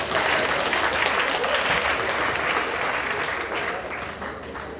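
A large conference audience applauds in a dense, sustained burst of clapping that stays loud and then tapers off slightly toward the end, with a faint crowd murmur beneath.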